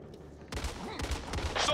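Assault rifle fire in the zombie shooter Back 4 Blood, a quick burst of sharp, rapid close shots starting after a short quiet lead-in and continuing to the end.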